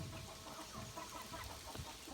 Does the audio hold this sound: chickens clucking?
yes